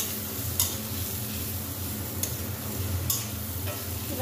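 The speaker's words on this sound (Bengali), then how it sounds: "সব মশলাগুলো আমি এতে দিয়ে দিয়েছি, আর সবজিগুলো এতে দিয়ে দিয়েছি, বিন কড়াই আলু আর" Beans, peas, potatoes and carrots fry with spices in a kadai for a noodle dish, giving a steady low sizzle with occasional sharp clinks of a utensil against the pan, close and without talk.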